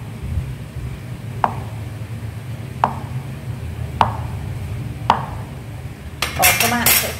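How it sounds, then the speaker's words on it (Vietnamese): A knife slices through tofu on a cutting board in a home kitchen, giving four evenly spaced sharp taps against a low background hum, followed by a brief clatter of dishes at the end. "đậu mình thái ra như thế này ấy"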